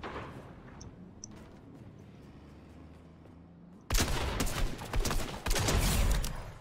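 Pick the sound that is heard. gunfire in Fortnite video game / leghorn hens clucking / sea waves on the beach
gunfire in Fortnite video game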